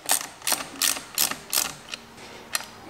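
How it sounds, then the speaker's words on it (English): A 7/16 ratchet tightens a motorcycle phone mount, with about seven quick, crisp clicking bursts in an even rhythm, close and alone. "Simple 7/16 ratchet is all you need."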